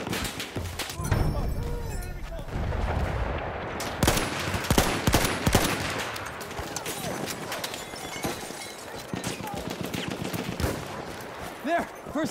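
Enemy machine gun fire in the war video game Frontlines, rapid bursts and scattered shots crackling close and loud, mixed with battlefield noise and voices shouting.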